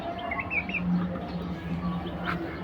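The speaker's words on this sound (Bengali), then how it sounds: "আরে মুরগি কী হয়েছে, খায় না?" A chicken clucking softly nearby with a few short chirps, brief and fairly quiet over faint background noise.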